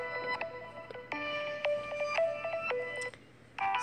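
A Samsung Galaxy S7 phone plays the AT&T Fioli ringtone, a bright melodic run of clear electronic tones repeating in short phrases, alone and close, with a brief pause before the tune starts again.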